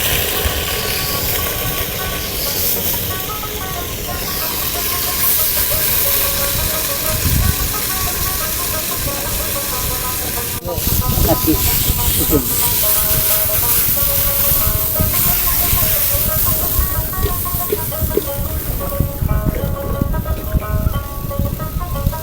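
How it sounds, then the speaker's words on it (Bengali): Fish frying in mustard oil in a pan aboard a fishermen's river boat, a continuous hissing sizzle with clatters and knocks, while people talk over it throughout. "মাছ ভাজা শুরু হয়ে গেছে"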